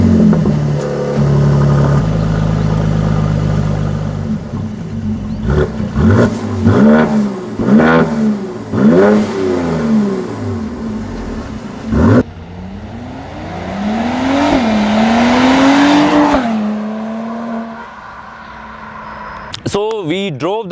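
Mercedes C43 AMG engine revving up and down in a series of sharp, rising and falling blips, loud and close, followed by a longer sustained rev and a short burst at the end.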